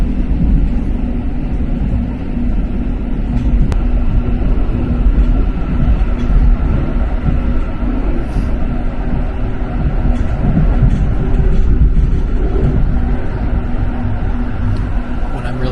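Inside a fast passenger train travelling to Kutno in central Poland, a steady, loud rumble of wheels and carriage carries on throughout, with faint clicks and rattles over the rails.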